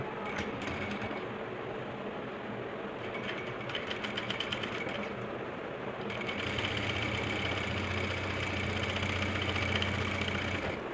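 An electric sewing machine runs steadily, stitching the seam of an Afghani salwar with a continuous whirring hum and brief pauses, close and clear with no talking.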